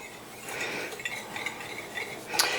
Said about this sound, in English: So I'm just going to take it and just stir this up a little bit